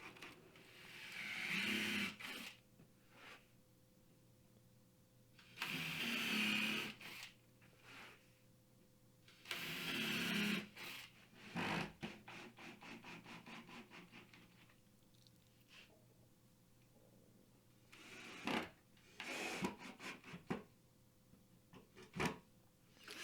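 A power drill drives pocket hole screws into the back panel of a wooden TV media console in three loud whirring bursts. Quieter clicks and short shuffling handling noises follow, and no voices are heard.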